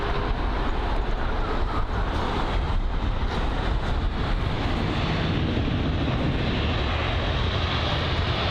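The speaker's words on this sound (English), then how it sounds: "Next up is going to be the A319 from Prague." British Airways Airbus A319 arriving from Prague on approach to London Heathrow, a steady broadband jet roar that holds loud and continuous throughout with no voices.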